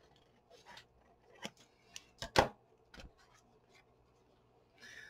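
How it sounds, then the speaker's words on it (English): Scissors snip through paper being trimmed for a handmade collage envelope, a few sharp cuts spaced irregularly with one louder close snip, quiet rustling in between. "I'm going to trim this off now because I want to fold this up."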